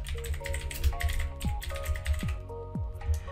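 Typing on a computer keyboard, a steady stream of close, crisp key taps over faint software tones and background hum.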